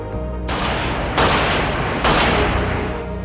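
Gunfire in a mafia film: three sudden loud bursts of shots crack out in quick succession, each ringing on briefly, over a steady background hum.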